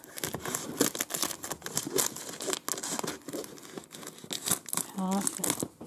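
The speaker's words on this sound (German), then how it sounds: "Zum Glück habe ich schon eine Schere hier. Dann mache ich das Ganze mal auf." A taped parcel is cut open with scissors and its packaging crinkles and tears, a busy run of loud crackling rustles up close, with a person talking intermittently over it.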